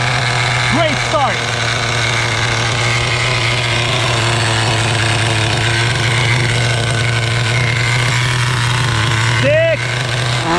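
Schumacher Menace 21 nitro RC car engine screaming at high revs during a road pass, a loud continuous buzzing whine with brief pitch sweeps from gear shifts near the start and end, with talk.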